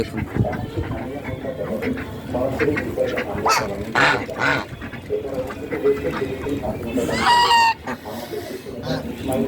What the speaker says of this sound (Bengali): নতুন করে খামার শুরু করেছি মোরগ মুরগি সব আছে